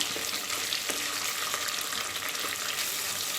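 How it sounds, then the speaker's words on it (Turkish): Tomato paste frying in oil for a Turkish mantı soup, with a dense, steady sizzle that stays loud and close throughout and faint scrapes as it is stirred. "Yağımızda güzelce salçalarımızı kavuruyoruz."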